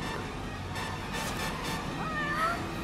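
A cat meows in the video game Gravity Daze, a soft cry heard over steady game background sound.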